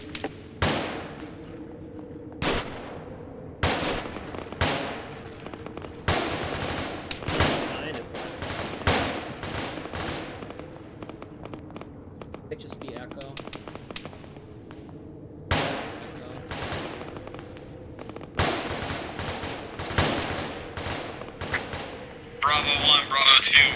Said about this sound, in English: Hearing shots west, Riley.